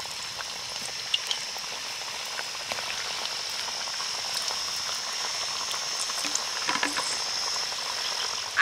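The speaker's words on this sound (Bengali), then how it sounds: "বাকি বিস্কুটগুলোকেও একইভাবে ভেজে নেব" Biscuits deep-fry in hot oil, giving a soft, steady sizzle with scattered small pops. The frying is quiet and continuous and is heard on its own.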